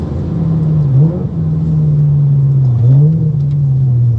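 A Ferrari 355 or 360 engine revving while driving, a loud, close, steady drone that swells and dips as the throttle changes, with no talk over it.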